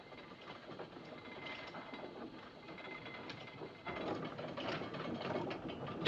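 Davit ratchets and pulley mechanisms clank and click steadily as a lifeboat is lowered from the Titanic, a dense mechanical rattle that swells louder partway through.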